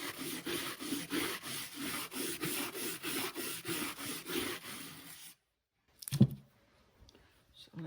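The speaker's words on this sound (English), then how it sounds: "The reason I'm doing this with a scrub brush is because this wood is quite coarse." Scrub brush scrubbing the coarse wood of a vintage cheese box, with rapid rhythmic back-and-forth rasping strokes, close and steady, then stopping, followed by a brief knock and faint handling.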